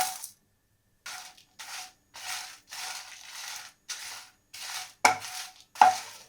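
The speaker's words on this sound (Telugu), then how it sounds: "ఇదే పాన్లో 10 కాశ్మీరీ ఎండుమిర్చిని వేసి వేయించుతున్నాను" Ten dried Kashmiri red chillies being dry-roasted in a pan, heard as short bursts of rattling and scraping separated by brief silences, with a couple of sharper knocks near the end.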